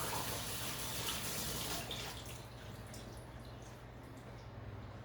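Hands being washed under a running kitchen tap to rinse off lemon juice, a steady broadband rush of water that is loud at first and eases slightly partway through, with no talking.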